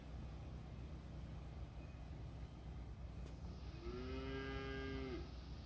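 A cow lets out a single long, low moo partway through, clear and fairly near over a steady background hum, with no talking.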